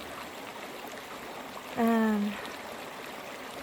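A small stream flows outdoors in a soft, steady, faint rush of water, with one short spoken word partway through.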